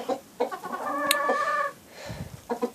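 A hen about to lay an egg clucks and murmurs in short bursts, with one drawn-out tonal call partway through, fairly close and without talking.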